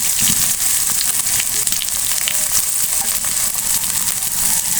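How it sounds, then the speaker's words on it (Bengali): Chopped onion, garlic and green chili browning in hot oil, a loud, even crackling hiss that holds steady throughout without any voices. "পেঁয়াজ রসুন কাঁচা ঝাল ব্রাউন কালার মতো হয়ে আসছে"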